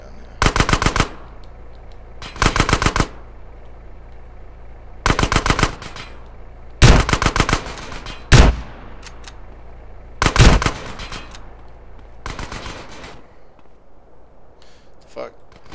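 Gunfire in GTA San Andreas comes in several rapid automatic bursts, each a quick string of loud shots, separated by short pauses, along with a few single heavier blasts and a voice talking in between.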